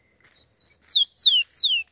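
A rufous-collared sparrow sings a short, high song: a couple of thin introductory notes followed by three clear descending whistles, close and alone.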